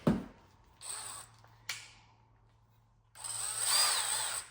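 A power drill drives screws while a ceiling fan is installed, in short bursts of whirring with pauses between, the last run longer and louder, heard fairly close in a quiet room.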